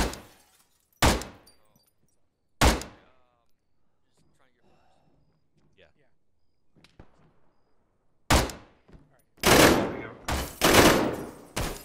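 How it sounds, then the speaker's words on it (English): Gunfire cracks loudly near the listener, a few isolated shots early, then after a quiet stretch a rapid cluster of heavy bursts and repeated shots. "I'm getting shot at now"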